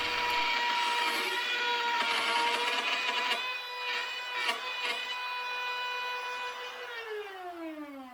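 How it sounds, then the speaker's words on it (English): A wood router cuts into a Grand Banks wooden boat piece as its bit drops out, giving a loud, steady high whine with strong ringing overtones and a few sharp knocks, then winding down in pitch near the end. "all of a sudden the router started making a different sound"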